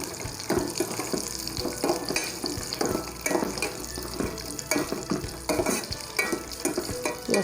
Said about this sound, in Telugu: గోడంబి వేయించుకుంటాను